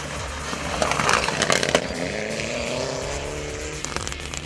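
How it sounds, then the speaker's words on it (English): A Mitsubishi Evolution 9 rally car racing on a stage near St. Peter, Barbados roars past with a loud, continuous engine howl and a rising then falling pitch, accompanied by a steady wash of background noise. "With Clive Howell calling the pace notes in the Mitsubishi Evolution 9, it was Hamilton that led the way"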